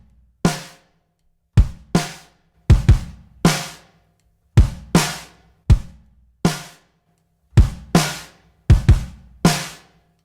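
A drum kit, processed through the Magma BB Tubes tube saturation plugin, plays sparse hard hits in an irregular pattern, each strike sharp and loud with a short decaying tail and clean silence between.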